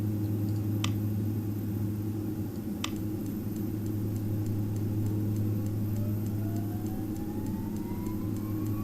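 Simulated Carenado B1900D twin turboprop in X-Plane 11 with its second engine starting: a steady, loud engine drone runs throughout while a whine climbs gradually in pitch as the engine spools up, with two brief clicks near the start.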